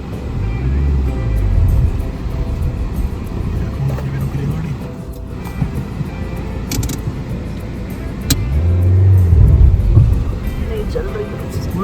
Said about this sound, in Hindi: चल रही है मर नहीं रही गाड़ी, नहीं बढ़ रही आगे गाइस